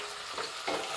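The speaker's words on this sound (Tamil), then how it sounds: "இதை நல்லா கலந்து விட்டுக்கோங்க." Onions frying in a pan with mustard seeds, cumin and curry leaves are stirred, two brief scraping swishes rising over a continuous close sizzle, with no talking.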